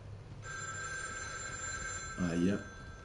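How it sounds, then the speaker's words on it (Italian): Telephone ringing in the horror video game The Evil Within 2, a steady continuous electronic ring tone sounding over a dark ambient background, with a brief voiced exclamation near the end. "Aia, telefono."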